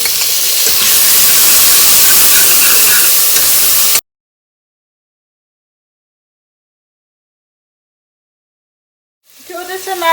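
Diced tomato hits hot onions in a pan for a sambhar and hisses loudly and steadily for several seconds, then goes silent, with a brief rattle at the very end.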